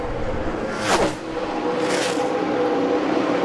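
NASCAR stock cars race at Michigan, loud engine roar with one car sweeping past close by, then another pass building, a steady howl of racing motors throughout.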